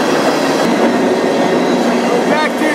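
A freight train rumbles loudly and steadily beneath a rider on a container car crossing the Appalachians, with a brief wheel squeal near the end.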